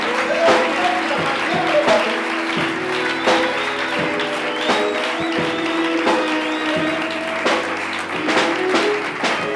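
A church congregation applauds and cheers for God, sustained dense clapping with scattered shouts and tones of music or voices running through it, loud and close.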